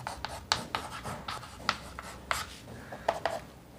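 Chalk or marker writing out a cylinder volume formula on a board, a run of quick, close scratchy strokes with short pauses between them and no talk.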